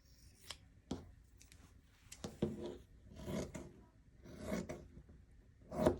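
Scissors trim the seam allowance of sewn fabric trouser legs, a few quiet snips and rustles spaced irregularly, close but faint, with no speech.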